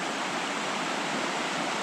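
Rushing mountain river in the western Gorgany range of the Carpathians, a steady, dense broadband roar of water over stones, close and continuous with no voices.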